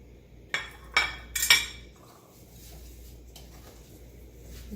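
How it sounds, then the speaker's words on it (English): Cabbage roll stuffing being mixed with salt and breadcrumbs, heard as three or four sharp utensil clinks against a bowl in quick succession, followed by quieter soft mixing and a faint tap, with no talking. "And I will mix everything together."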